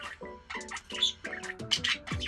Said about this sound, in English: They're the best birds in the world to me.